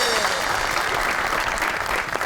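A studio audience on a Pakistani comedy talk show claps to welcome a guest, a dense continuous burst of applause filling the whole moment.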